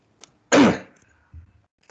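A single harsh cough, close and loud, with a small click before it and a soft throat noise afterward, alone in a quiet room.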